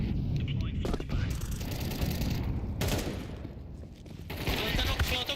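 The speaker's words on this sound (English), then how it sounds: "Deploying flashbang." Gunfire crackles and booms almost continuously in a tactical shooter game match, with a flashbang going off among dense bursts of shots and explosions, loud and near, while voices call out over the din.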